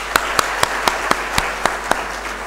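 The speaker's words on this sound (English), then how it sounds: "he deserves a big round of applause from all of us again" Applause from the audience at a seminar on International Financial Reporting Standards, a steady wash of clapping with several sharper, louder claps standing out at regular intervals, close and without talk.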